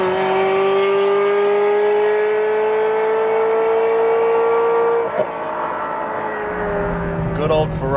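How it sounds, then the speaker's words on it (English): Ferrari 355 with its 3.5-litre V8 and cable throttle revving hard at full throttle, a loud, high-pitched engine wail climbing steadily for five seconds before the throttle lifts and the revs fall away, heard from inside the car. "Good old Ferrari V8, which means it revs really high and it's tiny."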